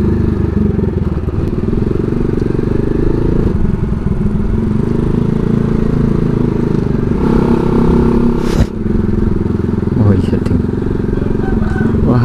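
A motorcycle with a stock exhaust revs with a mild, ordinary exhaust note, running steadily with clattering road noise as a person talks over it, passing through a tunnel.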